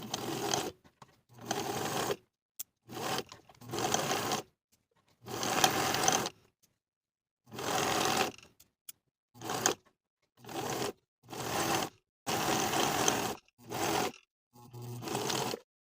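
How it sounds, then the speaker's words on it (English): A home sewing machine runs a zigzag stitch along a knit jacket hem, whirring in repeated short bursts of one to two seconds separated by silent pauses, close and steady. "Now I'm going to sew it with a zigzag stitch right along my finishing stitches from one outer edge to the other"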